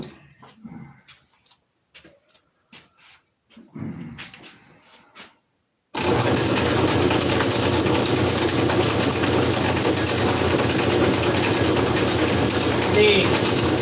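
A metal lathe runs while a parting tool cuts a washer off the stock. Someone talks quietly over short pauses first, then a loud, steady mechanical whir with a faint ticking takes over for the rest.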